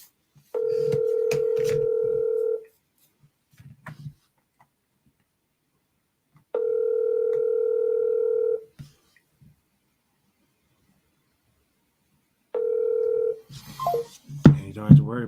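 A phone line on an outbound cold call gives three long, steady ringback or dial tones, each about two seconds, with faint clicks in the silent gaps between them and a brief burst of voice at the end.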